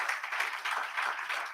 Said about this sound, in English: Please, can we give the conveners a beautiful round of applause